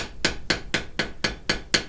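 A hammer strikes hot steel in light, quick blows while twisting a wrench at the forge. Seven crisp, evenly spaced metallic hits ring out about four times a second, close and alone.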